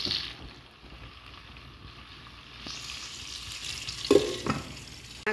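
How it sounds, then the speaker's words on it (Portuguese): Chicken fries in a pan on a home stove, giving a steady soft sizzle that grows busier toward the end, close and moderately quiet, with no talking. "nosso franguinho já tá aqui fritando"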